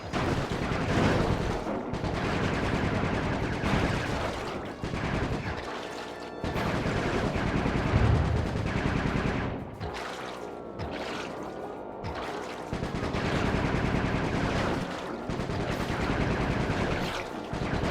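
Sustained gunfire from Sly Cooper 3: Honor Among Thieves (2005), a dense, loud barrage of shots layered over a busy game soundscape, with a few brief lulls over nearly eighteen seconds.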